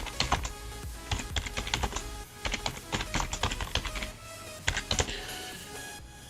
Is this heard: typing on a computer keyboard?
yes